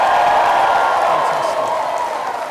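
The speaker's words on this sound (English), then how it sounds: "Big cheer, please." At a DMU graduation ceremony, a large audience raises a loud, sustained roar of cheering and applause that fills the hall evenly and fades slightly toward the end.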